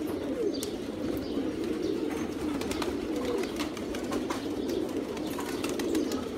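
Pigeons coo in a continuous low, throaty chorus while being bathed, with scattered chirps and occasional wing flaps in the background, moderately close and without speech.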